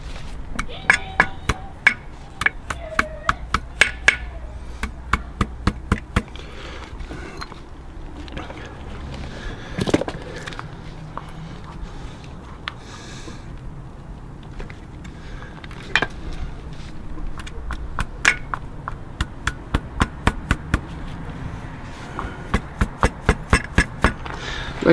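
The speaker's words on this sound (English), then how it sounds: "And I'll use a hammer." Sharp metallic hammer blows ring out in irregular bursts, some rapid and clustered, others spaced apart, over a low workshop hum, during a CV joint replacement on a 2001 Audi A6.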